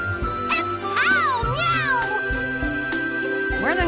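A character's voice in BlazBlue Chronophantasma Extend imitates a cat with several close, sing-song meows that bend up and down in pitch, mixed with small game sound effects and a faint musical backing.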